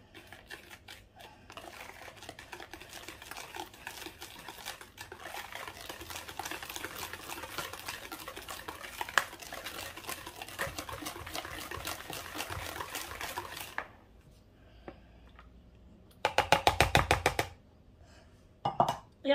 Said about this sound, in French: Je mélange au fouet.